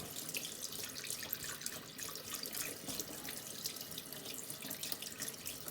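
Tap water runs steadily over fresh herring being rinsed and washed out in a sink, a constant bright hiss and splash, fairly quiet and close with no talking.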